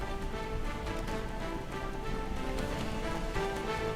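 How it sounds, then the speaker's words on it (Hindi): Steady rain falls during flooding in north India, with Delhi NCR soaked since the night; a dense, continuous patter fills the whole stretch with no voices. "दिल्ली NCR में रात से बारिश है।"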